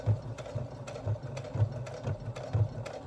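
A sewing machine stitches through quilt layers at a 3.0 mm stitch length, running in a quick, steady mechanical rhythm of repeated thumps. The sound is fairly close but soft, with no talking.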